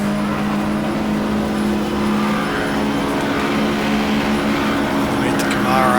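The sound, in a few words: race car engines in GTR2 video game, Daytona 24 Hour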